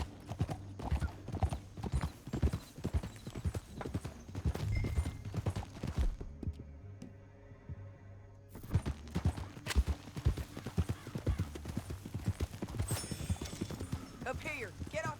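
Horse hooves clip-clop in a brisk, uneven rhythm, pausing briefly midway, with other sounds and voices mixed around them, in the video game Red Dead Redemption 2.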